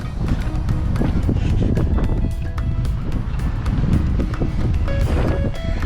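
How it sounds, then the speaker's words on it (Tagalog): Strong wind at the lakes of Banff, Canada, roars and buffets the microphone in a continuous low rumble, with gusty surges throughout and no speech. "Saka sobrang lakas ng hangin."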